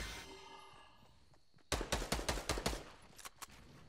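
Suppressing machine gun fire in a video game, a Tommy gun rattling off a quick burst of about eight loud close shots followed by a few scattered single shots after a quieter lead-in.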